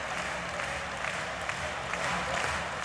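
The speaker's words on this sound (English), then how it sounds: "Djokovic even joining in with the applause." A tennis crowd at the 2015 US Open applauds in a steady, even roar of clapping from many spectators. The sound is broad and continuous and stays moderately loud throughout.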